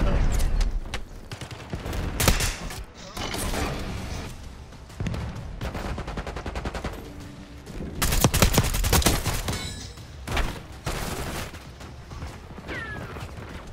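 Shotgun blasts and other gunfire in Call of Duty: Black Ops 6 multiplayer, with dense, loud, broadband bursts that repeat irregularly over a busy game soundscape throughout.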